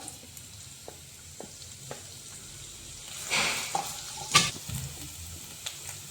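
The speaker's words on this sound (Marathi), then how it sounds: "आपलं तेल गरम झालेलं आहे, त्याच्यामध्ये आता लसूण," Garlic and ginger fry in hot oil for Manchow soup with a steady, close sizzle, and a louder burst of spattering and scraping comes partway through.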